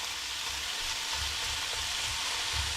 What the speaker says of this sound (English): brown it up a little bit. Get what I like to call charring.